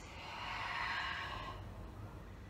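A long, breathy exhale during yoga breathing practice, a soft airy rush that swells and fades over about a second and a half, close and fairly quiet, with no talking.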